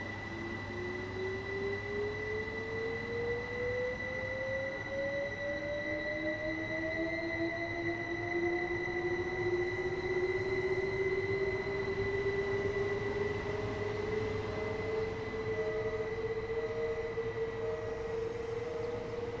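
Class 375 electric multiple unit running on the SouthEastern High Speed line in Train Sim World 2, a steady traction hum with rising motor whine tones climbing in pitch as it accelerates, over continuous rumble with no talk.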